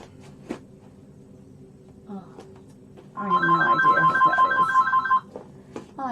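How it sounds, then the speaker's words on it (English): A telephone rings in an artist's studio, a loud electronic warbling tone burst lasting about two seconds, surrounded by quieter clicks and faint background voice. "I can't believe all these phone calls."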